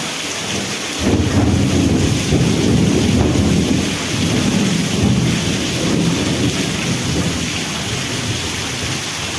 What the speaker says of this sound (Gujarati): વીજળીના કડાકા ભડાકા પણ ચાલુ છે અને મેઘની ગર્જના પણ ચાલુ છે